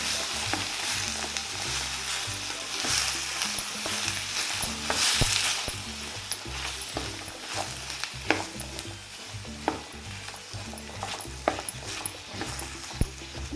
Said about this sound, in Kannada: ಸೇರಿಸ್ತಾ ಇದ್ದೀನಿ ಇದನ್ನ ನೀಟಾಗಿ ಈ ಥರ ಫ್ರೈ ಮಾಡ್ತೀವಿ